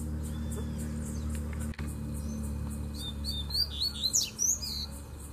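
Out in a bamboo grove, a double-collared seedeater sings from far away, a few faint, quick chirps and trills emerging late over a low steady background hum.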